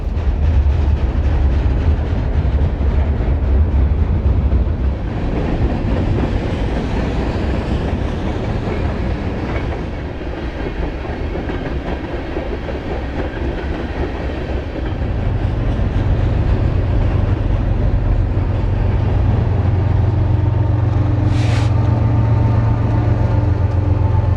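A westbound freight train rumbles past close by, a loud continuous roar of wheels and cars with rhythmic clattering over rail joints throughout.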